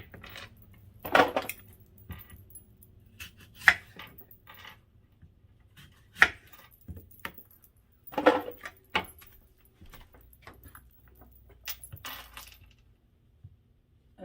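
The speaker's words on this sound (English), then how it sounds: "Just going to cut off the top. Cut off the bottom." A knife cuts the tops and bottoms off Fuji, Gala and Granny Smith apples, giving a few sharp, isolated knocks and clacks against a cutting surface, separated by quiet pauses, close by.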